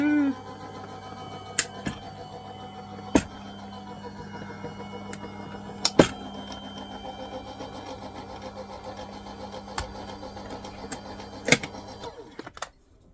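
A Pogi die cutting machine pushes a plate stack through its rollers with a steady mechanical hum, broken by a few sharp clicks. The hum runs close and even for about twelve seconds, then stops.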